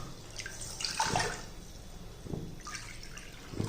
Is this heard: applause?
no